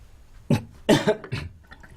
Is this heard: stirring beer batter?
no